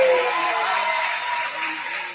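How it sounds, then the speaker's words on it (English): Applause for a homecoming royal court at a university basketball game, a dense and continuous wash of clapping from a crowd in an indoor arena, fairly loud and steady, tapering slightly toward the end. "Let's give them a round of applause."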